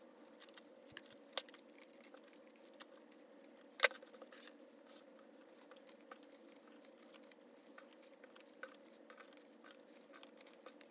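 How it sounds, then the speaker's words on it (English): Scissors cutting folded paper rectangles, faint scattered snips and crisp paper rustles over a steady low hum, with one sharper snip standing out partway through. "cut all your rectangles on the fold"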